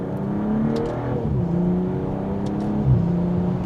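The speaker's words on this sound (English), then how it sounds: "Let's put it back into sport mode so we can do another acceleration from second gear" A BMW M440i coupe in sport mode accelerates from second gear, its engine and exhaust rising in a steady, moderately loud drone heard from inside the car, with no one talking.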